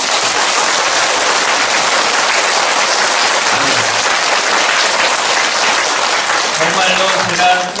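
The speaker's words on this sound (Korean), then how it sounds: "박수 한번 주시겠습니다" Loud, dense applause from a church congregation at a Korean Catholic charismatic renewal gathering, a steady wash of clapping sustained for about eight seconds before easing slightly at the end.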